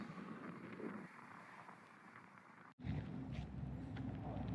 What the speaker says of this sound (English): A little bit chilly, a little bit windy